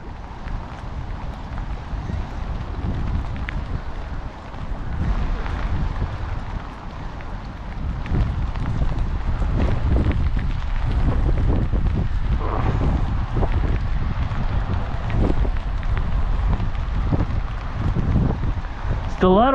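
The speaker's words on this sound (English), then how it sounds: "it's starting to get really windy and really rainy right now." Gusty wind and rain on the Detroit River, a broad rumbling wash that swells louder after the first few seconds, with scattered taps and splashes, close and steady; a voice speaks briefly.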